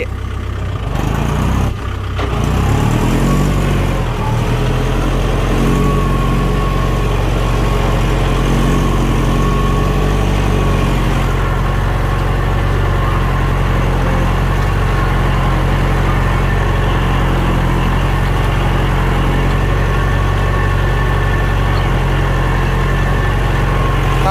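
A tractor plowing a wet rice field runs with a loud, steady low engine drone and rumble, briefly rougher near the start, then holding an even throbbing note close by.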